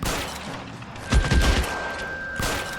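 Gunfire in a shooter video game comes as bursts of booming, rapid shots over a steady background hum, close and loud, with a thick cluster around the middle of the clip.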